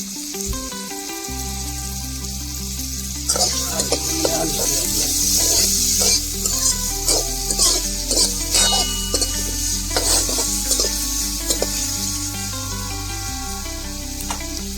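Turmeric stirred into hot oil in a frying pan for a chilapi (tilapia) fish curry, sizzling steadily and close, with repeated scraping and clinks of a spoon against the pan.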